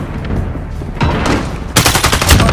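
Sustained automatic gunfire in Call of Duty Modern Warfare multiplayer, with dense overlapping bursts and booms that grow louder and closer toward the end, no talking.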